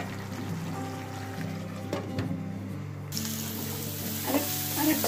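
Potatoes fry in a pan for Bangladeshi chicken curry, giving a steady sizzle with scraping stirs. Partway through, a louder burst of hissing joins in, and the cooking stays close by.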